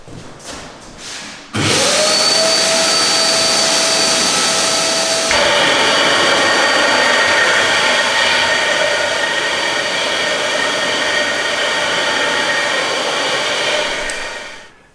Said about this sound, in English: I've finished the grinding with the diamond grinder